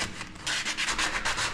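Sandpaper is rubbed by hand over a surface during a house renovation, giving a steady, close scratchy rasp in quick back-and-forth strokes with a brief pause near the start.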